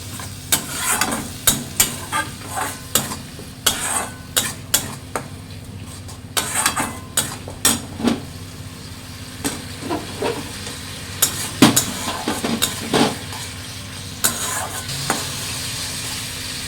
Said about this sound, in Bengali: মশলাটাকে ভালো মতো কষে নেব।